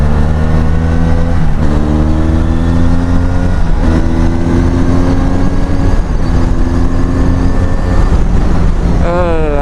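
A Benelli Leoncino 500 motorcycle with an aftermarket exhaust runs loud and close, holding a gruff throttled drone with repeated rising revs and a quick flurry of blips near the end.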